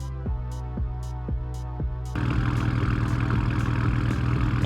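An engine cranks with rhythmic starter pulses, then catches and settles into a loud, steady idle nearby.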